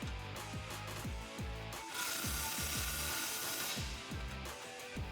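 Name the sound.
tightening Mustang GT exhaust tip clamp with 15mm ratchet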